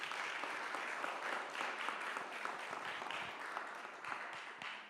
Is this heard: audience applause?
yes